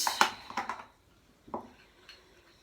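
A spoon rinsed and clattering against a sink and dishes in a home kitchen during baking, a cluster of quick metallic clinks and taps followed by a couple of softer knocks, close and fairly quiet.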